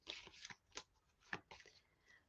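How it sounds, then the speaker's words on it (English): Playing cards shuffled by hand during a reading, a few soft riffling bursts spaced irregularly, faint and close. "I'll kind of shuffle them around"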